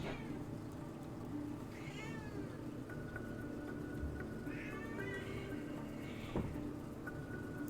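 A partially deaf house cat screams loudly indoors, giving two drawn-out wailing meows a few seconds apart over a quiet background with faint tonal hum.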